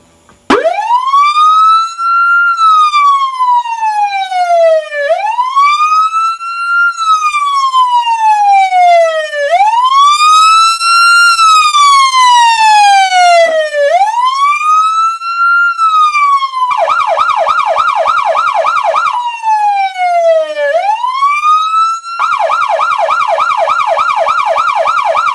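A Carson SA400 American police siren from 1991 sweeps in long, very loud rising and falling wails, then shifts into faster warbling bursts, close and continuous.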